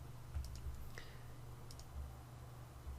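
A computer mouse is clicked a few times while tracing a path in CorelDRAW, giving faint, sparse, sharp clicks over a low steady hum.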